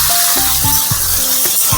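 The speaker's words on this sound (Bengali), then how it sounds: "এটা একটু হালকা করে ভেজে নিই। একদম কম তেল দিয়ে আমি তরকারিটা করছি বন্ধুরা।" Pumpkin and potato pieces frying in a small amount of oil after garlic, giving a steady close sizzle with faint periodic scrapes and clinks of stirring, and no voice.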